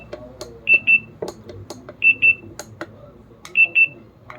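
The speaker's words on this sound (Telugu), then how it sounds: "ఏదైనా చేంజెస్ చేసినప్పుడు మనకైతే ఒక బీప్ సౌండ్ అనేది వినిపిస్తూ ఉంటుంది." A wireless karaoke speaker gives short paired high beeps as its modes or volume change, three double-beep sets spaced evenly over faint background noise.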